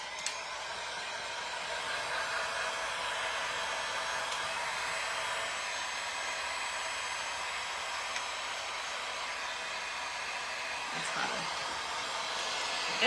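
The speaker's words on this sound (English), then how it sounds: "I'm gonna hit this with my heat." Heat tool drying craft paint on a vintage washboard, blowing a steady, even hiss-like roar at close range for the whole stretch with no talk.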